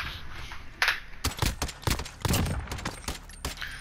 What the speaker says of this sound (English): That's the submachine gun.